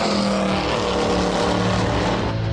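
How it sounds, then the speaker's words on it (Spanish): A Lamborghini sports car with carburetors runs loud and close, its engine and exhaust giving a steady, rich roar with strong low harmonics that holds throughout without a break. "el ruido que producen y el tubo de escape"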